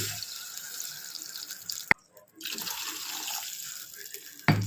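Water flows from a vessel into soaked basmati rice in a pot while making tomato rice, giving a steady, watery trickle with a short pause in the middle and a sharp clank at the end.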